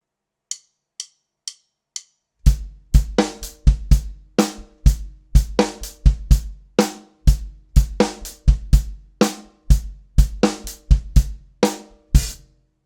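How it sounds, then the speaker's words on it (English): A drum kit plays a groove in 5/4 with quarter notes on the hi-hat and the snare on the and of two and on beat five. Four sharp stick clicks count it in, then even, close percussive hits continue steadily with no talking. "I'm going to play quarter notes on the hi-hats, just slapping every beat. I'm going to play the snare drum on the and of 2 and then right on beat 5."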